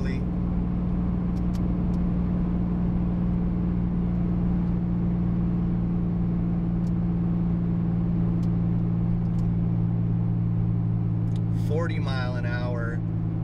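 Steady low drone of a truck engine slowing under a Pacbrake P59 engine brake, continuous and loud, with a voice speaking briefly over it near the end.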